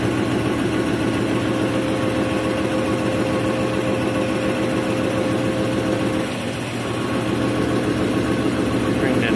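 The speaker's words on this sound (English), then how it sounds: "That's the big cylinders here raising up." An electric motor drives the hydraulic pump for the big lift cylinders on a homemade knuckleboom crane, making a loud, steady mechanical drone with a constant hum that stays nearly unchanged, dipping slightly for a moment partway through.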